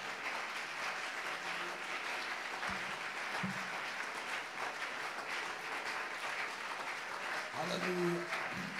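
Church congregation applauding during a French-English praise service, steady dense clapping throughout with voices mixed in and a louder swell near the end.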